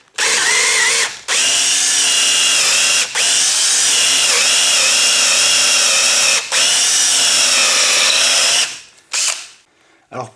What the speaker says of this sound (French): j'ai plus qu'à percer pour faire passer la tige filetée. Il faut bien percer au milieu.